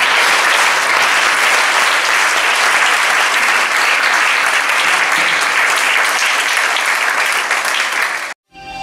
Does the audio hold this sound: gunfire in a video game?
no